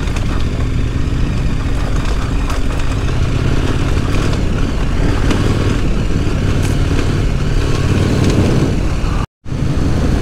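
Trail motorcycle on a road trip in southern France held at full throttle, a loud, close, continuous engine roar with a brief dropout near the end.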